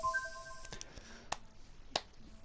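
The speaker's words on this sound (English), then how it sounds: "I hear the sound of clapping nearby" Hand claps at a shrine in a video game: two sharp, quiet claps ring out a moment apart over a faint ambient background.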